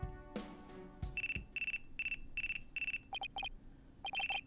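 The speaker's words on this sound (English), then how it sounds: "Looks like I have a phone call." Electronic phone ringtone from the video game Phoenix Wright: Ace Attorney - Dual Destinies, a series of short repeated tonal beeps in quick rhythmic bursts, clear and fairly loud after a couple of brief game sounds, with no talking.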